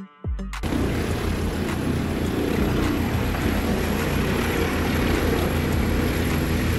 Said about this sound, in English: Ambulance helicopter. Also known as a medevac helicopter